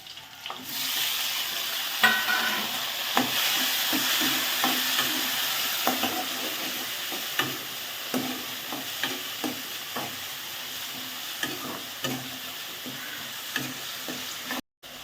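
Tomatoes and curry leaves frying in a pan for South Indian rasam, a steady sizzle with repeated scrapes and taps of a spoon stirring, close and moderately loud with no voices.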